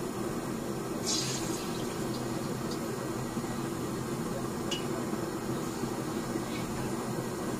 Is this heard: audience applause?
no